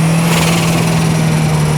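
A 1993 Ford Escort RS Cosworth's turbocharged engine pulls under boost, a loud, steady drone with a strong low tone and broad hiss throughout, heard from inside the car with no talking.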